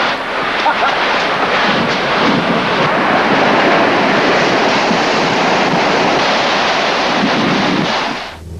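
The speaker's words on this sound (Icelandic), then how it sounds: "40–50 metra ísturn hrynur ofan í vatnið" A 40–50 metre ice tower collapses into water, producing a loud, sustained roaring rush that holds steady for several seconds before tapering off at the end.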